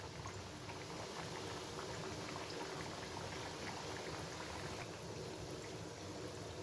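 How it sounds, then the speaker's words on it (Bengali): Thekua, a crisp Chhath Puja sweet, frying in oil over a low flame, giving a steady, even sizzle and bubbling hiss that runs unbroken throughout, close by with no talking. "এবার এগুলো ফ্রাই হোক।"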